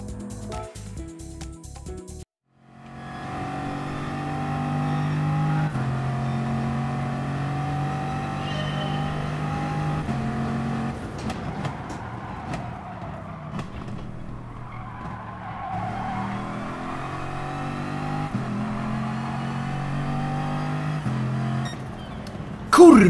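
A Bugatti Veyron in Gran Turismo Sport runs with a steady, loud engine drone and squealing tyres through corners for most of the stretch, after a brief burst of other sound at the start.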